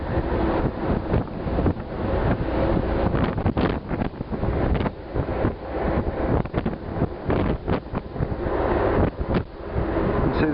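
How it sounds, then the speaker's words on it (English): Strong wind buffets the microphone on the front deck of the cruise ship Aquamarine, a loud, continuous roaring rumble with gusty surges throughout, the sea running with whitecaps near Little Venice on Mykonos. "the wind wind is really, really strong. I can barely stand up."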